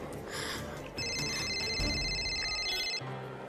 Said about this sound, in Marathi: सौमित्राच्या घरून फोन आहे,